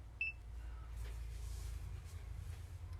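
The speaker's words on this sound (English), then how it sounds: "I'm gonna go and start my timer." A single short, bright electronic beep sounds as a coffee timer starts for an inverted AeroPress brew, followed by quiet room hum and faint clicks.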